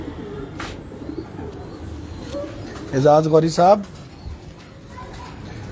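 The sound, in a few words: pigeons cooing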